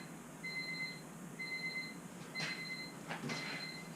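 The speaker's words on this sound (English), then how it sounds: "Because Honda's always had that beep, beep, beep, beep." A soft electronic Honda Civic Si door-open warning chime beeps repeatedly in an even rhythm, faint over a low background hum.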